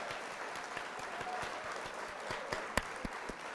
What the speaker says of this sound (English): We got to hit the old applause here.